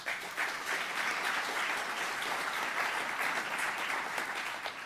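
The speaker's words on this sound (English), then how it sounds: "Give yourselves a round of applause." An audience gives a round of applause at a community event announcing a Toyota Texas philanthropic investment in San Antonio, steady and even clapping heard from a distance.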